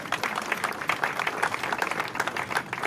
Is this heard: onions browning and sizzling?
no